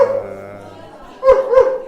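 A dog giving two short, close barks in quick succession near the end, following a stretch of tonal whining or vocal sound.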